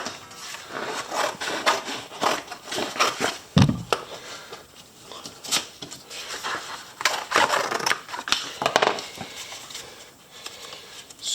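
A piece of brass sheet is cut out for a sword scabbard fitting, giving a series of close, irregular crunching snips and clicks with a sharp knock near the start.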